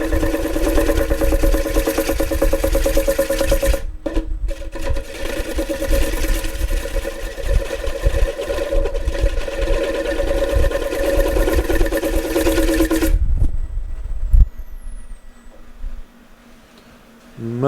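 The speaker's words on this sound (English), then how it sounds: "this is my spindle roughing gouge. Again, not using it like this, using it up on its edge so I get a high shear angle" A wood lathe spins punky maple while a spindle roughing gouge, held up on its edge, shears along the piece, giving a steady, loud machine hum and a continuous cutting hiss. The motor then cuts off and winds down into near silence.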